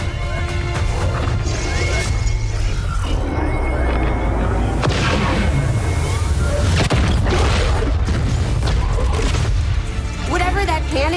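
Cannon hits exploding aboard the Avenger ship in XCOM 2: War of the Chosen, heavy crashing booms and impacts rolling continuously through a dense, loud game soundscape with voices mixed in.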